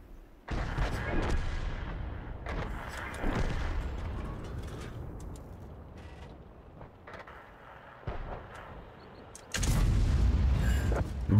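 Heavy cannon shots from an AMX 13 F3 AM self-propelled gun in a tank video game: several loud, booming blasts separated by seconds, each trailing off. The last blast is the loudest.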